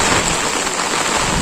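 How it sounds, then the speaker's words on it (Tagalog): Heavy rain pours down steadily during a typhoon in Bicol, a dense, continuous hiss of water with wind, loud and close with no pauses. "Malakas yung ulan."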